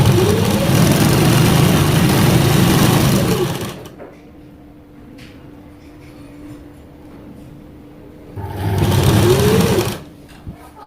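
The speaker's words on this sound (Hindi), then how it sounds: "इसमें भी हम सिलाई लगा लेंगे उसी तरह से।" A sewing machine stitches fabric for a drawstring, running loud and close in two whirring bursts, the first long and the second short, with a quieter stretch of handling noise between them.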